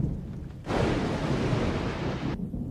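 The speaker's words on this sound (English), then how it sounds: "we start with Thunder with this one" Thunder sound effect opening a rock song: a deep, broad rumbling roar that swells in after a quieter start, holds for nearly two seconds and then drops away.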